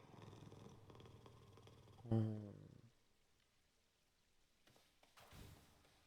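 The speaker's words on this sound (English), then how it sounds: "Kitten cat, hello." A cat in the video game Hades II purrs faintly at low volume, with one brief louder meow-like cry in the middle and near-silence after.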